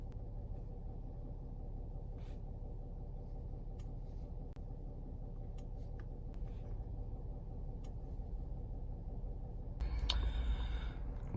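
A 2012 Ford Fusion engine runs steadily during a drive cycle test, a low, constant rumble from inside the car with faint clicks, swelling slightly louder near the end.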